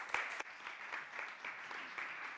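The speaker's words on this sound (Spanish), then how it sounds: "Un aplauso." Applause from an audience at a talk on artificial intelligence and authorship, a brief spell of faint, distant clapping with a few sharper individual claps standing out.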